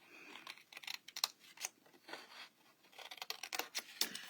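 Scissors cutting into a cardboard box template to make tabs: quiet, close snips and scraping cuts in short irregular bursts with brief pauses between them.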